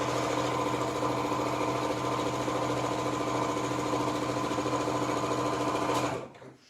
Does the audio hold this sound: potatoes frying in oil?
no